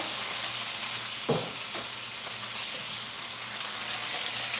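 Hot oil sizzles steadily as a turkey deep-fries, a dense, even hiss with one brief crackling burst early on and no voices.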